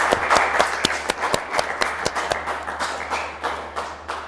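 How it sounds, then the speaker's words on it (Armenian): A school audience claps through a recitation contest, a steady wash of many hands with sharper individual claps standing out at a quick irregular pace, fairly close and continuous throughout. "ծափահարենք"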